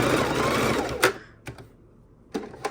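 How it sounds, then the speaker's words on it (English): A sewing machine runs a steady stitching burst while hemming a folded opening on a Christmas mitten, stopping abruptly after about a second, followed by a few short clicks and handling knocks. "And now we're going to stitch that down"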